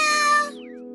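A cartoon cat in a Doraemon episode meows once, a loud, clear harmonic call that bends and fades, followed by a quieter sustained tonal tail with no talking.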